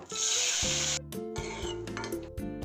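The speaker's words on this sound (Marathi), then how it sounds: "तळून घेऊया या तुपामध्ये" Loud, steady sizzling of food frying in hot ghee for sabudana kheer, with a few clinks and stirring sounds as it pauses and resumes.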